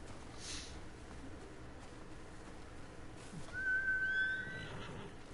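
A horse in the video game Ghost of Tsushima whinnies once, a thin, rising whistle-like neigh that swells briefly over a quiet background hiss.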